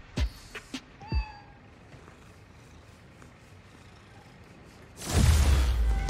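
A cat in the video game Marvel's Spider-Man: Miles Morales meows a couple of times, close and clear, then quiet room tone gives way to a loud rushing whoosh near the end.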